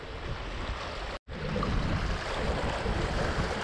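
Strong north wind buffeting the microphone at a lakeshore during a carp-fishing storm, a steady loud broadband roar with a brief dropout partway through.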